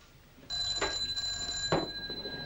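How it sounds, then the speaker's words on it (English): Classic telephone bell ringing indoors, two short bursts of ringing about a second apart with a steady high tone between, fairly close and clear with no talk over it. "You're wanted on the blower, Sergeant Marsh."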